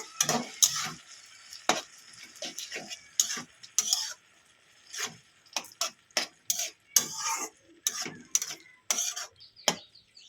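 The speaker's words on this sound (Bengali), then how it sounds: "টমেটো সেদ্ধটা দিয়ে দেবো আবার এটা ভালো করে মাখিয়ে নেব" Boiled tomato being stirred into a flat bean curry in a pan, with scraping, clinking spoon strokes in uneven bursts over a soft sizzle.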